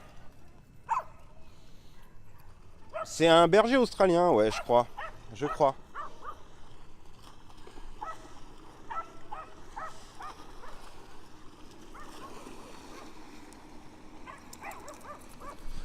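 Dogs at a busy dog park, with a burst of loud, close barking and whining early on, then fainter yips and scattered barks in the distance, while people talk throughout.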